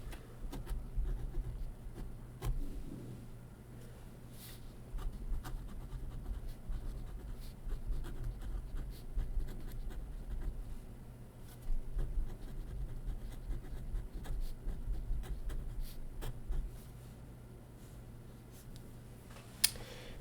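A medium nib fountain pen writing very lightly on paper, with soft continuous scratching strokes and brief pauses, close and faint against a low room hum.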